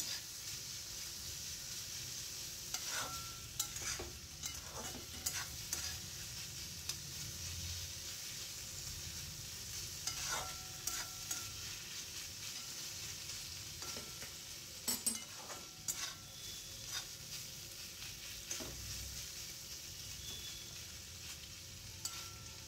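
Pointed gourd (potol) posto cooks in a pan over a medium-low flame, giving a steady soft sizzle broken by the occasional scrape or tap of stirring, with no talking.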